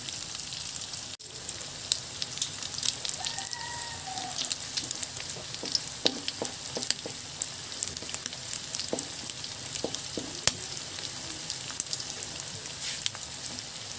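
Garlic frying in oil in a pan for a Filipino binagoongan dish, a steady soft sizzle with small pops and crackles throughout, no talking.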